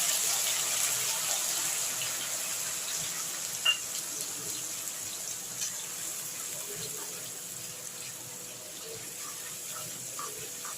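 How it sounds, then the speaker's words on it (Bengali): Onion paste sizzles in hot oil while chana masala with kabuli chickpeas is cooked. The hiss is steady and even throughout, moderately loud and close, with no talking over it. "আমি সেই পেস্টটা তেলে দিয়ে দিলাম।"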